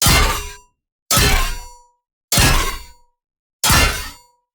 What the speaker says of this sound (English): this is the swing sound of the claw